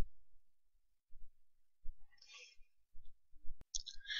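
Computer mouse buttons clicking, a handful of sharp, quiet clicks spaced irregularly in a near-silent room, with a soft brighter tap or two mixed in.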